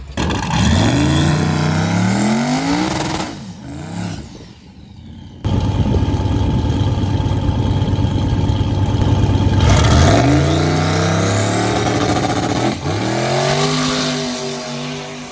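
Drag racing car launching off the line and accelerating hard down the strip, the loud engine climbing through rising revs and gear shifts, then a second car roaring past later, close and dominant.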